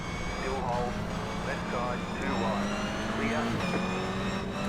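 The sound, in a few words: racing car braking hard in a GR86 Cup racing video game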